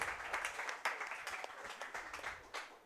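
Crowd applause at a pickleball pro-am after a long rally, a steady wash of clapping from many spectators with a few sharper bursts, fairly distant and without speech.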